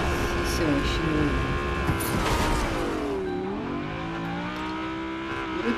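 A car engine in Fortnite revs and swells, rising then dipping in pitch, with tire noise and game effects, loud and close, under a player's voice at the start.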